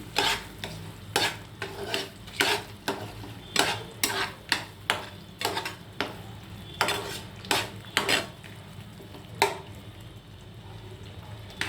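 Stirring a tempering through mango pulihora in a pot: a long run of rhythmic spoon scrapes and knocks against the metal, roughly two per second, fairly close, over a faint background hiss, with no voices.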